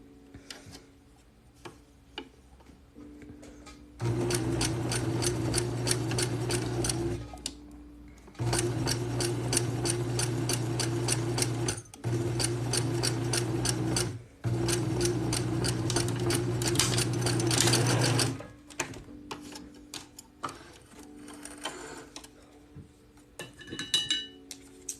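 A sewing machine stitches together the edges of clothing, a mesh bodysuit, in three loud sustained bursts of rapid mechanical whirring separated by short pauses, with quiet clinks and handling noises between the runs.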